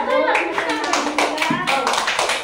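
Children clap their hands in a group activity, a loose run of sharp claps mixed with young voices chattering and calling out over them.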